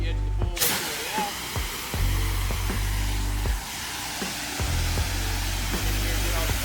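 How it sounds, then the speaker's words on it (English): A pressure washer sprays water across a pool deck, a loud steady hiss with the motor's low hum running underneath and small shifts as the spray moves over the surface. "Do my best to spray away from the pool."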